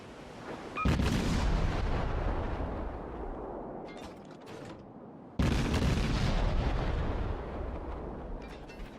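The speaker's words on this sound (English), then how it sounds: "As you can see, the guns have great arc and velocity." Big naval cruiser guns in World of Warships fire two heavy, loud booming salvos, each with a long rumbling roll that slowly fades, separated by a few seconds of quieter rumble.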